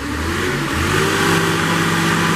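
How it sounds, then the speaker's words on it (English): A Kohler engine on a 2017 Moffett M8 55.3 truck-mounted piggyback forklift starts and revs up, a loud steady mid-pitched engine drone with a rising tone, heard alone without talk. "Hear that Kohler come to life."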